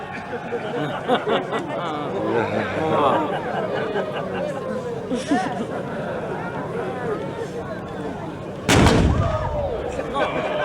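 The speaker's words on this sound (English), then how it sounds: "The light howitzer crews will now traverse to fire in the opposite direction." A 105mm light howitzer fires a single heavy boom near the end of a military demonstration at Fort Sill, preceded by a crowd murmuring and a voice on a loudspeaker.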